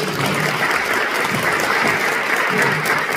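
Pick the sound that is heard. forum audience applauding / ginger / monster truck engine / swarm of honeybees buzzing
forum audience applauding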